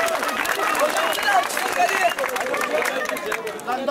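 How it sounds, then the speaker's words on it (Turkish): Crowd at a school tug-of-war event cheers and claps for a teacher, lively applause mixed with shouting and excited chatter from students, close and busy throughout. "en büyük alkış"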